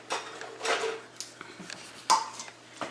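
A taco filling mixture is stirred in a bowl, giving soft, uneven scraping and clinking bursts of a utensil against the bowl, close by and fairly quiet, with short pauses between strokes.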